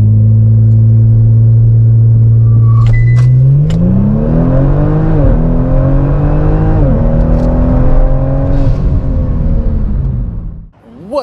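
A twin-turbo Kia Stinger GT running a JB4 tune is held on launch control, its engine rising and then holding a loud, close, steady high-rpm drone with small wavering dips before it drops away at the end.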